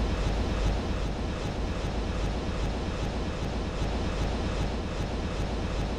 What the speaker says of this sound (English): Is that just the sound the helicopter makes when hovering?